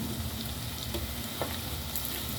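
Chicken curry frying in a pan with finely chopped tomatoes, a steady dense sizzle heard close and fairly quiet, with no voices over it.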